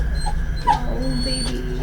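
A dog whimpers in a brief, high-pitched whine, close and fairly faint, over a low background hum.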